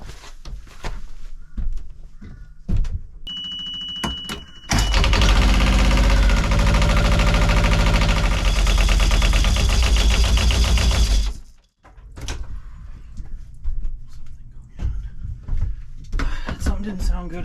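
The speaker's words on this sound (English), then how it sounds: "So I'm gonna go start up the engine and then check for leaks while it runs." A sailboat's inboard engine, with a clogged cooling system, starts abruptly and runs loudly and steadily for several seconds before cutting out, heard up close with clanks and handling noises around it.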